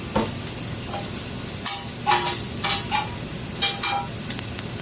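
Fried rice stirred and sizzling on a hibachi grill, a constant frying hiss with several sharp metallic spatula scrapes and clanks breaking through close by.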